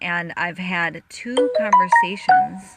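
A mobile phone ringtone plays a short rising run of bright electronic tones beneath someone speaking close to the microphone, its notes clearest near the end.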